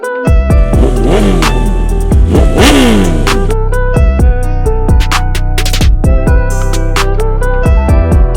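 BMW S1000RR sport motorcycle ridden on an open road, its engine loud and close with repeated revving surges and rising, falling pitch sweeps through gear changes, steady throughout without talk.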